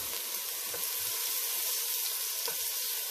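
Steady, broadband hiss of tomatoes and garlic sizzling in a hot pan for cauliflower soup, close and continuous with faint stirring scrapes and no talk.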